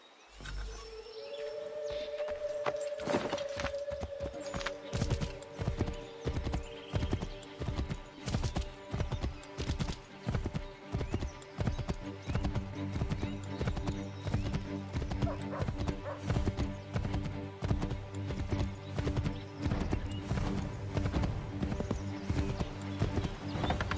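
A horse in the video game Assassin's Creed 3 gallops with steady rhythmic clip-clop hoofbeats that run through the whole stretch, opening with a whinny and carrying a sustained tonal game sound beneath the strides.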